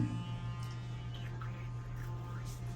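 An electric toothbrush with water flosser vibrates in a steady, low electric buzz with a faint ringing overtone, humming continuously and close without a break.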